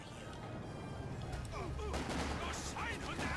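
Infantry gunfire in Company of Heroes 2, bursts and cracks of rifle and machine-gun fire over a constant low battlefield rumble, fairly faint in the game mix.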